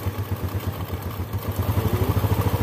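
A motorcycle with a 4-stroke or 2-stroke engine on an economy idle setting, a steady close low putter whose rhythmic pulses grow slightly stronger and more even.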